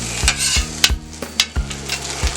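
Eggs and breakfast burrito fillings sizzle on a Steelmade flat-top grill while a spatula scrapes and taps the surface in a steady rhythm, close and fairly loud, with no voices.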